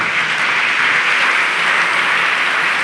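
A church congregation claps in a loud, dense, sustained round of applause, steady throughout with no voices.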